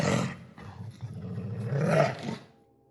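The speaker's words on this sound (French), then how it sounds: "Le bruit se transforme en grognement menaçant." A menacing, rumbling growl from unseen creatures, loud and close, swelling in two surges and then fading out.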